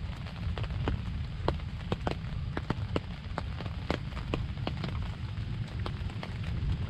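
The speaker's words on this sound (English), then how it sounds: "I don't know if the deer are gonna be moving in the rain or not" Rain patters steadily on a hunting tent, a dense, close hiss of fine drops broken by sharper individual taps landing at irregular moments over a continuous low rumble.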